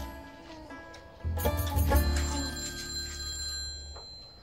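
A telephone rings in a quiet room, a steady electronic ringing that swells loud after about a second and carries on to near the end.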